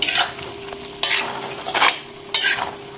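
Duck meat and pumpkin stir-fry in a pot for an Assamese duck curry, with a steady sizzle and three or four loud, rhythmic scraping strokes of a spatula close by, no talking.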